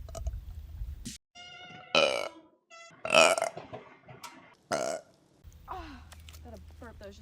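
Several loud, voiced burps from a woman come in separate bursts spread through the clip, some short and some drawn out, with quiet gaps between them.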